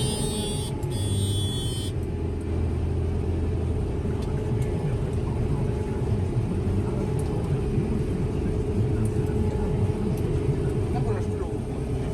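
Large harvesting machine running through a wheat field, a steady low rumbling engine drone with a constant hum, loud and near, with a brief higher whine at the start.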